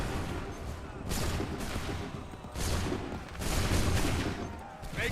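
Repeated musket volleys in Assassin's Creed III Remastered, several loud broadband bursts of massed gunfire at irregular intervals, roughly four volleys layered over a continuous battlefield din.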